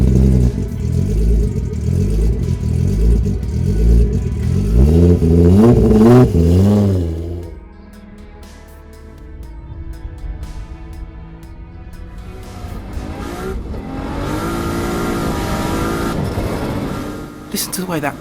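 Nissan GT-R drift car of 1,390bhp on nitrous roars loudly under acceleration and upshifts, with rear wheels spinning. The engine surges, drops away, then builds again in a long close run, with a voice briefly over it.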